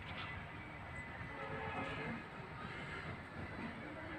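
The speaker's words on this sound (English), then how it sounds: "Might some train has been passing, maybe goods train" A steady, broad rumble of a goods train rolling past nearby at Hubli railway station, with continuous rail noise and no gaps for the whole stretch.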